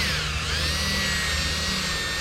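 A power polisher spins a plain sponge pad across a car headlight with no sandpaper, giving a steady whirring motor hum with a faint rise and fall in pitch, close and continuous throughout.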